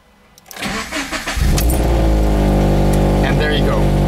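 A car engine, its crankcase overfilled with engine oil and showing a small evaporative-system fault, cranks for about a second, catches and settles into a loud, steady idle close by.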